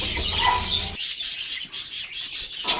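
Pet parakeets chirp in a backyard aviary, a dense high twittering of several birds close by, continuous over a few seconds with a brief louder call near the start.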